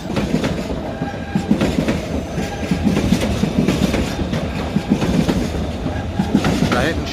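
Trains at Bern railway station: a steady rumble with rhythmic wheel clatter and occasional metallic squeals, moderately loud and continuous.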